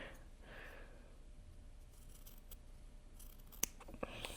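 Scissors cut through quilt fabric along a marked line, giving faint close snips and crisp clicks over a quiet background, with a sharper snip near the end.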